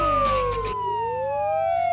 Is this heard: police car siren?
yes